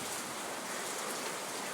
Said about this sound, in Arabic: يعني زي ما شفت هذا مطر